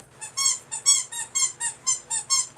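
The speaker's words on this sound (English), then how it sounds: "If you hear the squeak, that's my son playing with his squeaky toy." A child's squeaky dog toy is squeezed over and over in a quick, regular rhythm, about ten shrill squeaks in a row, close and clear with no talk.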